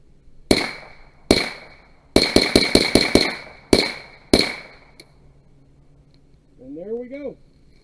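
A Nylon 66 .22 rifle test firing about ten sharp, loud shots, some spaced singly and a quick cluster of rapid cracks in the middle, followed by a brief voice near the end.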